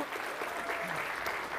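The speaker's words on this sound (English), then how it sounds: "Huge round of applause yet again." Quiet, distant applause comes from an audience at a talk on aquaculture and running an aquarium operation. The clapping is soft and steady throughout.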